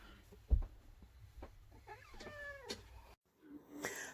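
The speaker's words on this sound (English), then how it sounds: "And the cat will not shut up." A house cat meows repeatedly indoors, several drawn-out, insistent cries spread across a few seconds, fairly close but modest in level, with some soft handling noises and a brief break near the end.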